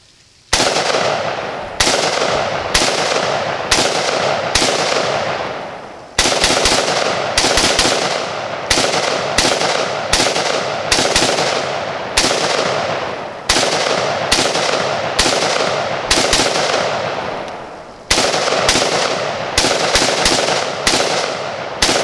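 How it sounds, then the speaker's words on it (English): New-production Serbian Zastava ZPAP M70 AK-47 rifle fired outdoors: about twenty loud, sharp single shots at a steady, unhurried pace, grouped in strings with brief pauses, each with a ringing tail and no talking. "we're going to be taking some first shots with the new production Serbian Zastava"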